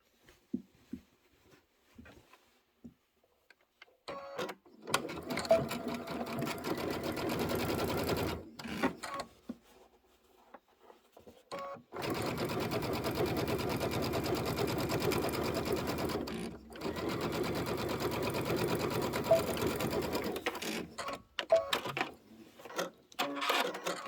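Sewing machine stitching the outer border of a Kimberbell quilted table topper, running in two long steady bursts of rapid mechanical whirring with a short pause between and quiet stops at either end.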